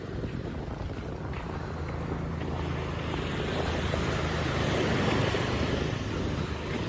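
A steady fishing boat engine drone mixes with wind and water noise, building slightly louder, like a boat running on open water.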